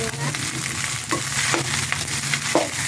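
Onions frying in a pan for sinangag, garlic fried rice, a loud steady sizzle with scraping stirs recurring every second or so, no talk.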